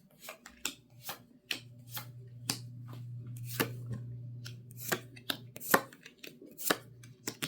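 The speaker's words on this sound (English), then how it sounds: "I'm going to put down 9 cards." Tarot cards are laid down one after another on a table, making a quiet series of crisp slaps and flicks against a faint low background hum.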